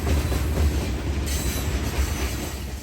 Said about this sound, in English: the rails that go through Folkston funnel dozens of trains carrying hundreds of different crucial commodities